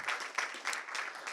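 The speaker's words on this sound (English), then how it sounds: "So also a round of applause to our judges" Audience at a programming competition final applauds the judges, a fairly faint, steady patter of clapping with pulsing swells.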